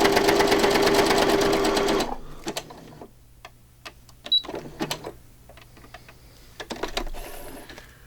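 A sewing machine runs a wide stitch in a steady, loud mechanical whir for about two seconds, then stops, followed by scattered clicks and handling taps.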